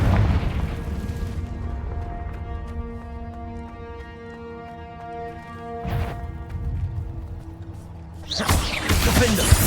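A Confringo blasting spell in Hogwarts Legacy erupts in sharp, booming bursts, one mid-way and a heavier one near the end, over a sustained musical score with faint voices in the mix.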